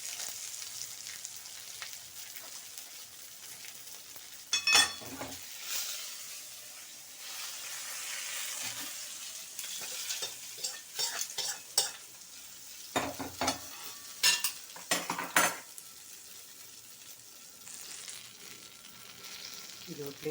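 Food sautéing in a pan for a Tamil arputha thogayal, a steady low sizzle broken by a few louder scraping stirs, with scattered faint bursts of activity and no talking.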